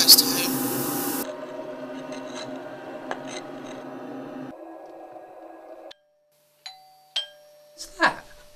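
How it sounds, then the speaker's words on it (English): A doorbell fitted beside an airlock door rings with a few sharp electronic tones near the end, after a stretch of dull background rumble and a moment of silence. "The doorbell."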